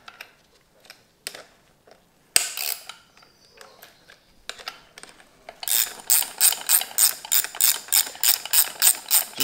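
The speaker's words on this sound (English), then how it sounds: "now we can tighten it back down" A hand ratchet tightens the spring counter bolt during an H&R Super Sport spring install on an F30 BMW 340i, sounding as scattered clicks at first, then a steady run of rapid, close ratcheting strokes.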